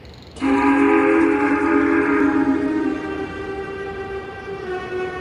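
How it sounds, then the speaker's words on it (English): A steam engine's whistle sounds out of the darkness, a sudden loud sustained multi-tone blast that starts abruptly, holds for a few seconds, then lingers more softly as it fades, alone with no talk. "Suddenly, he and Percy heard a whistle from another engine, which was coming from the darkness ahead of them."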